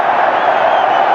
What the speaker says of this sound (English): Crowd loving the tricks.